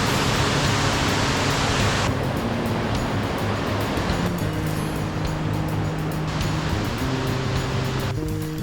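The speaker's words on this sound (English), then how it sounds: "The falls right up by the Lake McDonald." Steady, loud rush of falling water at a waterfall near Lake McDonald in Glacier National Park, a dense continuous roar with no voices, close by and unbroken throughout.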